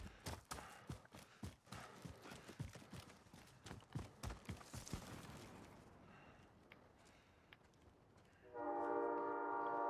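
A train rolls past with a quick, rhythmic clatter of wheels over rail joints that gradually fades, followed by a loud, sustained horn blast near the end.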